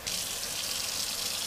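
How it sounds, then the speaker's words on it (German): Cold water runs steadily from a tap into a glass sprouting jar holding quinoa, a close, continuous bright gush with no talk. "Dann macht ihr kaltes Wasser rein."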